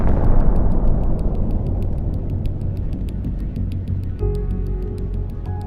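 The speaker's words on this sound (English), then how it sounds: "the ignition led to an extremely powerful explosion." A Russian tank's extremely powerful explosion, a heavy rumbling roar that slowly decays, with a rapid rhythmic clicking above it and a brief tone near the end.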